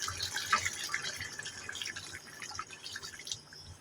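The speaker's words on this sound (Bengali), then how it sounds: "এখন আমি জল অ্যাড করব পরিমাণ মতো।" Water trickling and dripping into a pot of chicken curry. The flow is faint and close, with small splashes and drips throughout.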